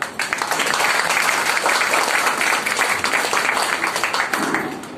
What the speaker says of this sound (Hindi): तो इसके लिए आप अपने आप के लिए जोरदार तालियां